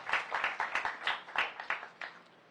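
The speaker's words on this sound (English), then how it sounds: "Can we have another round of applause for them," Sparse clapping from a small audience at a Diwali puja and cultural program, about a dozen distinct close claps in an uneven rhythm that thin out and stop.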